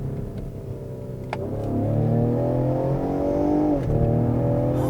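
A 2020 Ford Explorer ST accelerates hard through a tunnel, its engine note and piped-in induction noise swelling into a loud, steady, rising roar with gear changes along the way, no talking.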